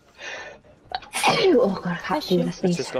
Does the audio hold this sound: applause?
no